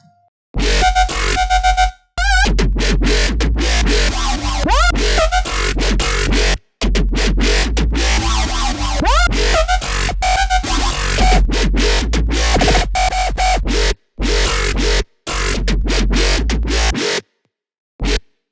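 Electronic dance music drop from a remix, loud and dense with heavy sustained sub-bass, gritty wobbling and pitch-sweeping bass synths, broken by several short hard cuts to silence.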